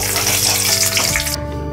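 Bay leaves and whole dried red chillies sizzle in hot oil for a tempering, a steady loud frying hiss that fills the short clip and cuts off abruptly near its end.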